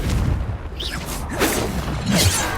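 Confringo explosion spells in the game Hogwarts Legacy, a few loud whooshing bursts and booms in quick succession over a dense, noisy combat background, with no talking.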